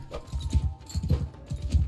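A horse's hooves clip-clop in a video game, steady rhythmic thuds repeating in quick groups close by with no talking over them.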